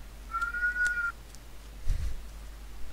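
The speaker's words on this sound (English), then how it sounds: "That is my one-year-old nephew exercising his lungs. Sounds like a cat." A one-year-old toddler lets out a short, high, wavering scream that sounds much like a cat's meow, heard fairly faintly over low background hum, followed by a brief low thump.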